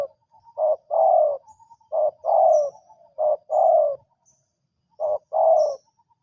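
A bird repeats a deep, two-part cooing call about four times in a slow rhythm, close and clear against near silence, with faint high chirps between.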